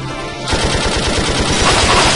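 Rapid machine-gun fire in the Valkyria Chronicles III video game, a loud continuous burst of evenly spaced shots starting abruptly after a brief quiet moment.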